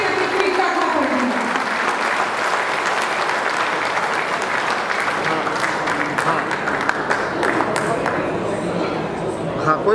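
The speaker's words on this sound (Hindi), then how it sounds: "एक जोरदार तालियों के साथ स्वागत करें श्रीमती तृप्ता थापर जी" Loud, sustained applause from a crowd at a Kargil Diwas event in Delhi welcoming Mrs. Tripta Thapar, dense clapping running steadily throughout with faint crowd murmur beneath.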